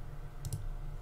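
A computer mouse double-clicks in the RPG Maker MV editor, two quick, crisp clicks close together over a steady low hum.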